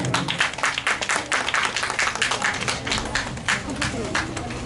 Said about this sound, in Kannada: ಜೋರಾಗಿ ಚಪ್ಪಾಳೆ ಬರಲಿ